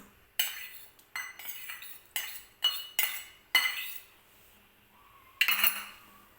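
A metal spoon scraping and clinking against a bowl while stirring vermicelli fruit custard made with milk, a series of sharp irregular strokes with short pauses between, close and clear with no voices.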